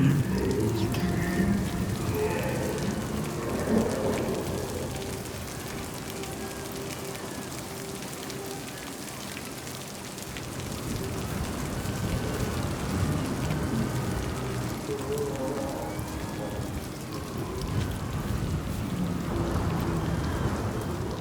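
A storm in the video game Hellblade 2, with steady heavy rain hissing throughout and low thunder rolling in now and then, loud and close with no talk.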